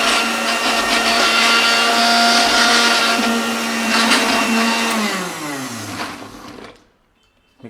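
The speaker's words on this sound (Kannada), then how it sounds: "ಮಿಕ್ಸರ್ ಒಂಥರ ಹಳೆ ಗಾಡಿ ಇದ್ದಂಗೆ" An old kitchen mixer grinder whirs loudly and steadily at close range for several seconds, its pitch dropping as it winds down and cuts off near the end, with no voices.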